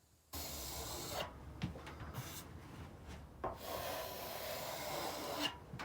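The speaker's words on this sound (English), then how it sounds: "You have to keep your trowel purposely slow at this stage, with pressure, trowel it out any high" Steel plastering trowel worked slowly with firm pressure over wet plaster on a wall, giving a steady continuous scraping rub with brief breaks between strokes, close and moderately loud, with no talking.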